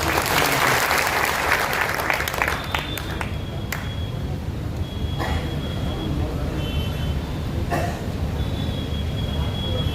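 A crowd of young people in Samastipur bursts into loud applause welcoming Prashant Kishor, strongest at first and then thinning to a lighter patter, with a few sharp clicks and a voice or two over it.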